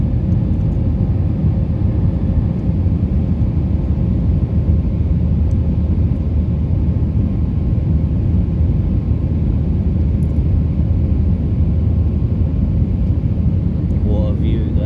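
Steady, loud engine drone fills an airplane cabin in flight, a constant low rumble with no breaks, with no talk over it.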